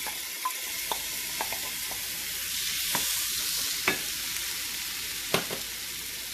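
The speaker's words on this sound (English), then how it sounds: "I am going to add the beetroot mashed, boiled and mashed." Boiled, mashed beetroot fries with a steady hiss in a pan as a spoon stirs it, giving occasional soft scrapes and taps, close and moderately loud with no talking.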